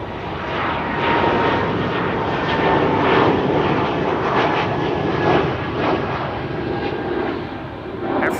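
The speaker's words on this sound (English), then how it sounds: "Air France A220-300 to Paris." Air France Airbus A220-300 airliner at Amsterdam Schiphol Airport, a loud, sustained jet engine roar that holds steady throughout with no voices.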